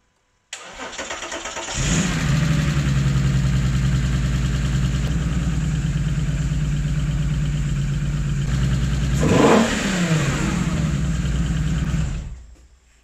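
A VW Golf engine on a standard ECU map starts up and idles somewhat unevenly for about ten seconds, close and loud, with a brief rev near the end before it shuts off; no one speaks.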